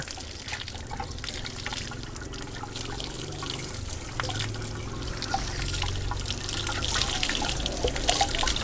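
Dirty water flowing and trickling out of a diesel vehicle's exhaust pipe during cleaning with a hose pushed inside, a steady close splashing dribble that grows slightly stronger toward the end.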